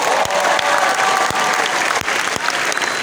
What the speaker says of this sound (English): Can we get another big round of applause?